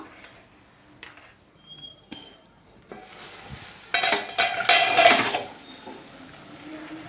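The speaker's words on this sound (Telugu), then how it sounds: "కలిపేసి బాగా వేగనిద్దాం ఇలాగ మూత పెట్టి ఒక ఐదు నిమిషాలు ఉంచుకుందాం" Cabbage coconut curry stirred in a pan and then covered with a lid: scattered light clinks and scrapes that build into a busier, louder burst of metallic clatter before settling again.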